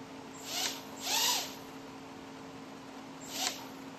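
A Hubsan Q4 Nano quadcopter's tiny motors spin up in three short high-pitched whining bursts as the throttle is pushed, the middle burst longest and rising, close by in a quiet room.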